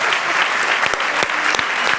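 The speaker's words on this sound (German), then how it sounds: "Applaus für Daniela. Bravo!" A sales breakout session audience applauds a participant, a loud, dense burst of many hands clapping with a few sharper individual claps standing out.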